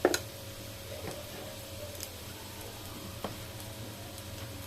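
Ground coriander and cumin frying in a pan, heard as a faint low sizzle with a few sharp ticks and scrapes of stirring scattered through.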